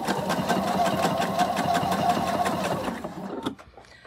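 A sewing machine stitches a flower petal onto a bag made from old denim jeans, running in a steady rapid mechanical chatter up close for about three seconds before stopping, followed by a few faint handling clicks.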